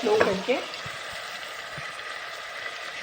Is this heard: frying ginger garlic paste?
yes